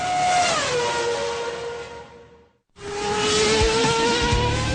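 A Formula 1 racing car screams past at speed, its high engine note dropping in pitch as it goes by, then a brief gap before a second car roars through loud and close.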